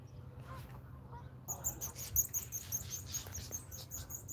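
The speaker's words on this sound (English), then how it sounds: "those birds are murdering each other back there" Birds squabbling loudly outdoors at a fishing spot, a busy chatter of high, scratchy calls from a distance over low steady background rumble, with no talking.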